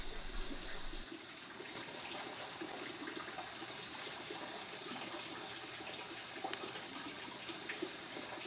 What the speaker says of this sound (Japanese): 東の端と同様に海が満ち潮のため、海から山に向かって水が流れてます。